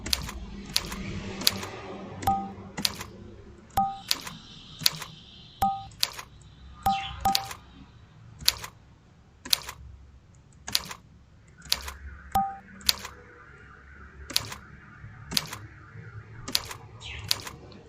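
Keys on a computer keyboard tapped in a children's typing game, sharp individual clicks at a slow, steady pace with short gaps, close by and alone without talk.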